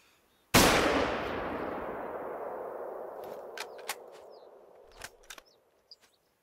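A single loud rifle shot cracks during a bison (wisent) hunt in theHunter: Call of the Wild, trailing a long rolling echo, followed by a few faint clicks and knocks as the rifle is handled.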